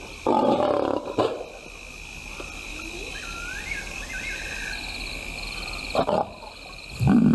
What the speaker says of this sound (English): The big lioness begins the trek back for her cubs, but the youngsters have heard her call